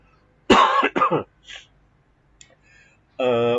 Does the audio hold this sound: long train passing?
no